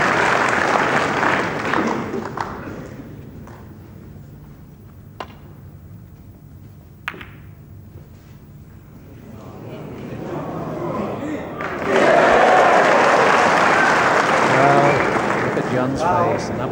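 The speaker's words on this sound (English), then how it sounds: "Goes a cheer." A snooker crowd at the 1988 Masters applauds and cheers, with a burst of clapping at the start, a quieter stretch of commentary with a few sharp clicks, then a louder wave of cheering applause near the end.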